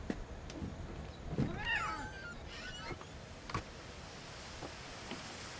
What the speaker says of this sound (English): did hear a cat